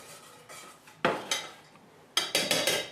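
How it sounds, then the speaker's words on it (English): A spoon clinks and scrapes against a metal pot while coffee, sugar and sodium alginate are stirred, sharp metallic strikes coming in short close bursts with quiet gaps between. "We're going to stir it up and add it to the heat over here."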